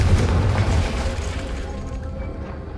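A Confringo fire spell bursting in Hogwarts Legacy, a loud booming blast with a dense low rumble that rolls on and slowly fades over a few seconds, with no voices.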